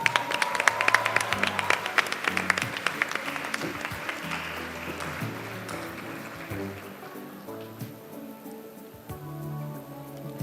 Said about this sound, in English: Let's keep the applause rolling